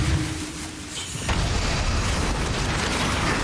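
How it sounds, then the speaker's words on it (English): Explosives detonating in the video game Path of Exile: a loud, dense, sustained roar of blasts and rumble that swells after a brief quieter start and stays loud to the end. "Oh, detonate explosives."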